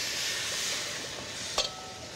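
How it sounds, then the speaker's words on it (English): Meatballs fry in hot oil in a pan for banh mi style tapas, a steady close sizzle and hiss with one sharp clack of a utensil partway through, and no talking. "I'm going to cook my meatballs."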